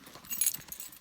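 Keys jangle briefly inside a Chloe white Silverado handbag, a faint metallic rattle of about a second with no talking over it.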